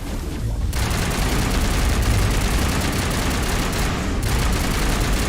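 Rapid gunfire rattles through a Mass Effect firefight, a loud sustained barrage of shots and booms filling the whole stretch with no speech heard over it.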